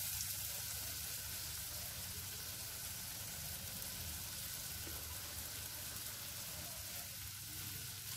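Green chillies frying in hot oil, a steady, dense sizzle with a faint crackle throughout that neither rises nor falls, close and unbroken, with no talking.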